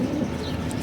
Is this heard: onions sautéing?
no